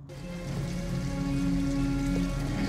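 Steady, moderate rain falling on an abandoned house in Detroit: Become Human, a continuous even patter without pauses and no speech.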